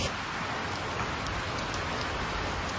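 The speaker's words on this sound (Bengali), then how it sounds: "চারিদিকে দেখো কন্টিনিউয়াস বৃষ্টি চলছে" Continuous rain pours down in an even, dense patter, soft and unbroken throughout, with no voices.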